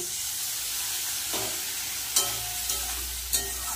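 Bitter gourd and potato slices fried with turmeric, cumin, green chilli and salt sizzle steadily in a pan, with a few sharp scrapes and clatters of stirring breaking through the continuous hiss.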